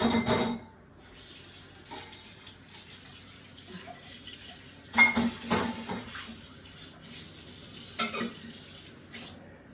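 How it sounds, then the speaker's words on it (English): Tap water runs into a kitchen sink while something is rinsed off during potato salad preparation, a steady splashing stream with a few louder bursts as items pass under the flow. "I'm gonna throw this out. Rinse off."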